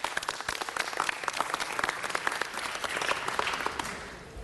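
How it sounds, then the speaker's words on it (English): Audience at a city council meeting breaks into sustained, dense applause that holds steady for several seconds, clear and moderately loud with no voices over it. "Let's give her a big round of applause."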